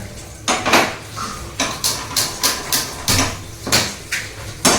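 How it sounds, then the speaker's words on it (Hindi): A kadhai is set down and knocked about on a home kitchen stove, giving a string of sharp metallic clanks and scrapes in an uneven rhythm, close and fairly loud, with no voices. "इधर हम बैठा दी हैं कढ़ाई"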